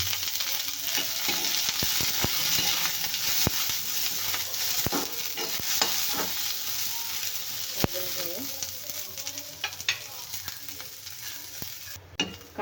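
Two onions frying in a little oil in a pan until golden, a steady broadband sizzle running throughout with occasional sharp clicks and pops from stirring.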